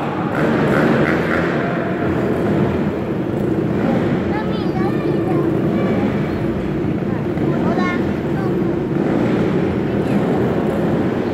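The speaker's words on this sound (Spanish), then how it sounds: "¿Alguna falla técnica en la motocicleta?" Motorcycle engine roaring continuously inside a ball of death at a live show, a steady loud drone with crowd noise and an announcer's voice over it throughout.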